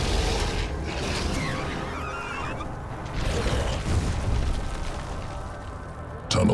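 A burrowing ashworm tunnels through the crust in a StarCraft 2 cinematic, heard as a dense, loud grinding and creaking rumble with mechanical ratcheting textures that swell midway and end in a sudden burst.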